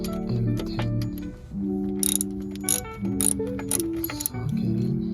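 A ratchet tightening a bolt with an M10 socket during a tensioner pulley replacement on a Mk 5 car, heard as close, quiet runs of rapid clicking pawl strokes in several short bursts.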